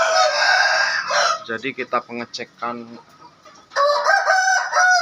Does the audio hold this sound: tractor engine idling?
no